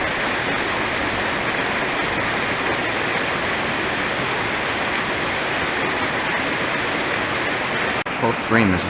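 A mountain brook trout stream in Shenandoah National Park rushes and splashes in a steady, continuous broadband roar, close by, with a brief knock near the end.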